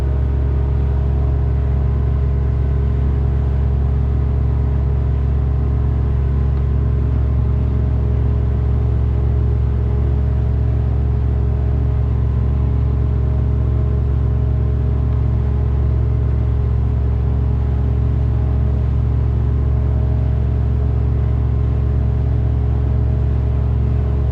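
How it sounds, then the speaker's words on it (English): A two-stroke outboard engine on a boat runs steadily, a loud continuous low drone and rumble that holds an even pitch throughout, with no speech. "Good old two-stroke."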